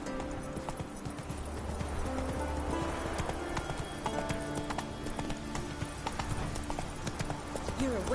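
Roach the horse's hooves clip-clop in The Witcher, a steady trotting rhythm heard under a voice giving commands, with low ambient game sound beneath.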